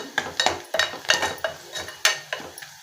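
Onions and masala fry in oil in a pan while a spatula stirs them in quick, repeated scrapes and clacks against the metal, close and fairly loud over a low sizzle, with no talking.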